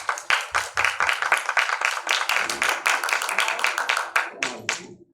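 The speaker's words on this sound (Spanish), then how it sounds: "Un aplauso para ellos, por favor" Applause from a film, photo and video event audience for panelists, a smaller group's close, crisp clapping that carries steadily for a few seconds before thinning out.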